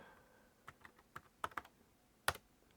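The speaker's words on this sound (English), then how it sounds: "So the keyboard is working" Keys on a computer keyboard typed one by one during setup of a Pico 6502 computer kit, a sparse run of quiet, close clicks with one sharper, louder keystroke near the end.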